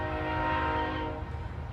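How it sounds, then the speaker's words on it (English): A passing train sounds its horn in the background, a loud sustained harmonic blast that holds steady, then thins out with a low rumble underneath near the end. "you got a train in the background"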